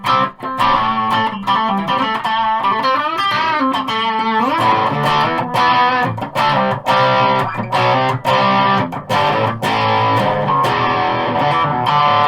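Heavily distorted electric guitar through a Governor distortion pedal plays chunky chords over a driving rhythm, loud and dense throughout with sharp rhythmic accents.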